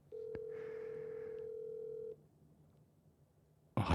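A telephone call rings out while waiting for someone to pick up: a short dial click, then one long steady ring tone for about two seconds, followed by quiet line hiss and a sudden burst of noise at the end.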